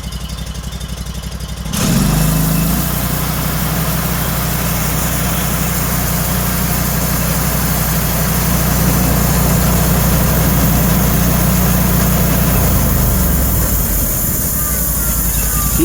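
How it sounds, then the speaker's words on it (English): A Norwood sawmill engine fires up after a quiet start, then settles into a loud, steady low idle with a deep rumbling hum that drops off slightly near the end, with no speech. "Let's start this thing and see how she works."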